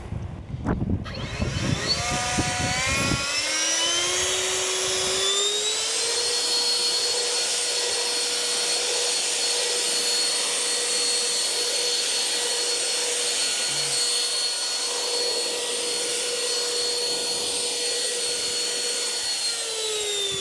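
A SEQUOIA SBLB4022BT cordless leaf blower clears construction debris, starting with a rising whine that settles into a loud, steady, close airflow roar held for the whole stretch, with no talking.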